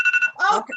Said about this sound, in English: That's my alarm to let me know that